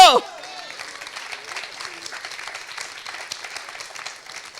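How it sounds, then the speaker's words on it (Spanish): A church congregation applauding for Christ during a sermon: a brief voice at the start gives way to steady, moderately faint clapping from many people that continues evenly for several seconds. "¿Cuánto les da un aplauso a Cristo?"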